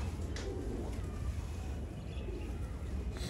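A temperamental pigeon, one of a champion game breed in a Pakistani pigeon-keeper's loft, coos softly and low while being held in the hand, a steady murmuring under a noisy, hissy background.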